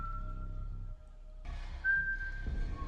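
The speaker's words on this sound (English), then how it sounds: "Here he goes with his whistling again." A man whistles a few clear, sustained high notes over a low background hum, short and fairly close.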